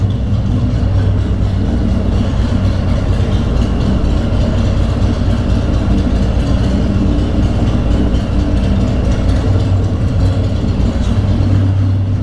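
A heavily loaded motorcycle on a road trip from Boynton Beach to Sanford, Florida, produces steady engine drone mixed with wind and road rumble, constant and loud throughout, with no talking.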